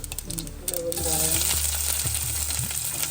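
Whole spices such as fennel seed frying in hot oil for a mutton curry, a steady close crackling sizzle that rises after the first second and holds throughout, with faint clinks and low hum beneath.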